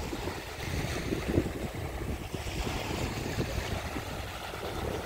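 Waves wash steadily onto a wild beach in Latvia, a continuous rumbling surf mixed with wind buffeting the microphone, with no voices.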